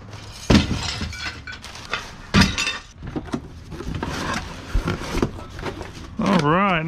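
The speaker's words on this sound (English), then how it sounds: "Bunch of broken glass in that one." Shards of broken glass inside a storage locker box clink and rattle in a few sharp bursts as the box is handled, with people talking nearby between the clinks.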